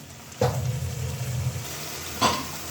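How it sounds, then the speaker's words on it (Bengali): Potatoes being stirred with spices in a frying pan in a village kitchen, a steady low sizzle broken by two brief scraping stir strokes, close and alone. "আলু দিয়ে দিলাম আলুটা একটু মশলার সঙ্গে নেড়ে ফেলে"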